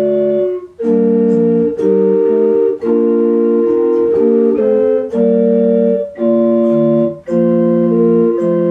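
A pipe organ plays the closing phrase of Bach's four-part chorale Ach bleib bei uns, with a bass line on the pedals, sustained chords moving steadily and loudly with brief breaths between them.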